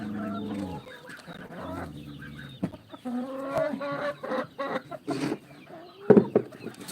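Several chickens cluck and squawk close by in a busy, irregular chorus, with a sharper loud squawk near the end.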